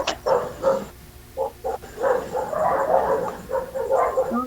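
Several dogs bark in short bursts, overlapping yaps and woofs at moderate distance, fairly loud and continuous.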